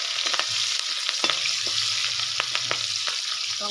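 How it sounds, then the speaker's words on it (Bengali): Onion and green chili frying in hot oil for a mutton curry, a steady bright sizzle with scattered crackles and stirring scrapes throughout, close and fairly loud, with no talking. "পেঁয়াজটা আস্তে তেলের মধ্যে ছেড়ে দিই। তারপরে কাঁচা লঙ্কাটা ছেড়ে দিলাম,"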